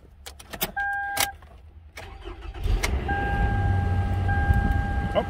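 Toyota Camry engine, fitted with a swapped ECU, being started: a few clicks and a short electric whine, then the starter cranks and the engine catches into a steady idle, heard close with no talk.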